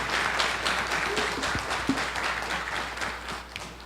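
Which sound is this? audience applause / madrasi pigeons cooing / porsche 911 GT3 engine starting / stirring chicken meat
audience applause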